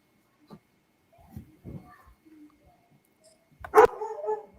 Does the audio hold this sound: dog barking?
yes